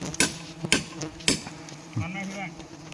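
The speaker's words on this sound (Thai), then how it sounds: "กำลังตอกท้อยพี่น้อง" Wooden pegs hammered into a tree trunk for climbing during wild honeybee hunting: three sharp, loud knocks at an even pace, then quieter tapping with insects buzzing faintly in the background.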